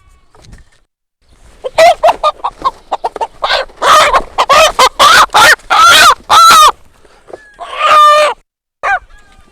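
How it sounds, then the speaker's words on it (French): A rooster crows loudly and close by, a run of harsh repeated calls with a long drawn-out crow near the end, and no talk over it. "C'est notre frère le coq."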